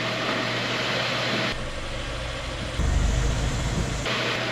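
A Subaru Forester engine idling steadily close by, its low rumble shifting in pitch and level a few times as the car is put into drive.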